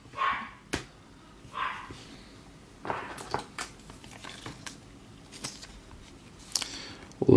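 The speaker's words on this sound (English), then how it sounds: "Little dog, big bark." A small dog barks in several short, sharp bursts spread across the moment, fairly close, with quiet room noise between barks and no talking.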